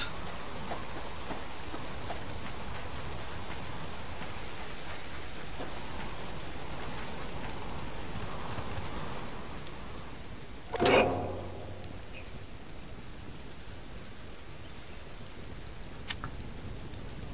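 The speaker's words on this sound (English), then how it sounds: "We'll go back inside because it's raining still" Steady rain patters continuously in the video game Subsistence, with one brief louder clatter partway through before the even downpour resumes.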